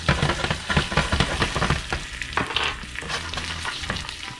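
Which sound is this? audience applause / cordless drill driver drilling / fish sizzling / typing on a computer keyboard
fish sizzling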